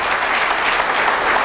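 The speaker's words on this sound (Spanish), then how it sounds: "Le doy un aplauso a Cristo." A church congregation in El Salvador breaks into loud, dense applause that fills the space steadily throughout, many hands clapping at once with no voices rising above it.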